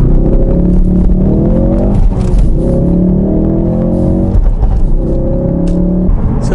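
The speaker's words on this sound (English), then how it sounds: "Maybe a good time to do a launch control." A Ford Focus RS engine revs hard and accelerates under launch control through rising gear pulls, each climb broken by a brief shift, loud and close from inside the cabin.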